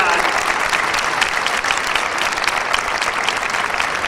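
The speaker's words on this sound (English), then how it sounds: "Graduates, please join me in giving a rousing, you didn't do that last time, a rousing applause to those who came to see you graduate today." Audience at the Bartlett High School 2014 graduation ceremony applauding families who came to watch: thick, continuous, loud clapping from a large crowd, steady throughout with no gaps.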